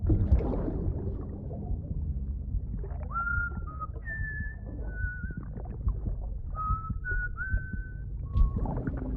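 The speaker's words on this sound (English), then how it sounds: "Oh, I'd love Mad Mickelson to whistle at me." A character in the Death Stranding video game whistles a short, wavering tune of several sustained notes over a steady background of low game ambience, moderately loud and unaccompanied by talk.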